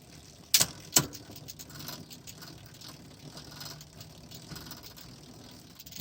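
A 1980s Raleigh Milk Race Special bicycle drivetrain runs through the gears, giving a faint, slightly rumbly whirr with two sharp metallic clicks early on.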